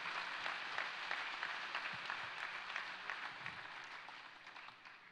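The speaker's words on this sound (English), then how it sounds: "how about a huge round of applause for the fact that everybody would come out tonight" An audience at a live community event on the Red Hill water crisis claps together in a dense, sustained round that slowly thins toward the end.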